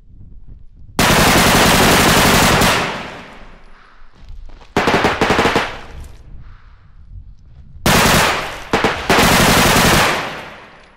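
Loud automatic gunfire from the realistic shooter Bodycam, built on Unreal Engine 5: three sustained bursts with abrupt starts, separated by a short, sharper volley and brief quieter gaps with faint echoing tails.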